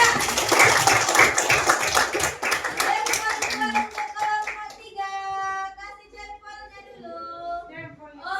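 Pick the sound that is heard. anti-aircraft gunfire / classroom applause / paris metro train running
classroom applause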